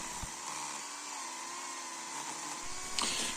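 A WORCRAFT cordless electric chainsaw running steadily with its oil feed working, a continuous whining motor hum at even intensity throughout, with a brief louder surge near the end.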